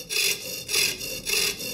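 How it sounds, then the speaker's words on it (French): A hand saw cuts through a wooden facade panel in long, even strokes, three rasping passes back and forth, close and clear with nothing else audible. "Il suffit de laisser le propre poids de la scie faire son travail."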